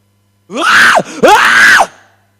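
A preacher gives a loud imitation of a roar: two long, strained vocal bellows that rise and fall, with a brief break between them, harsh and close with no talk.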